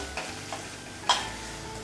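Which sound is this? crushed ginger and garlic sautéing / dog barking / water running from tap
crushed ginger and garlic sautéing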